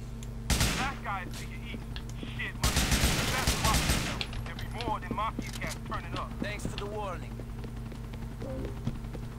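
Bursts of gunfire in the video game GTA IV, one short volley and then a longer heavy burst, mixed with game music and scattered effects.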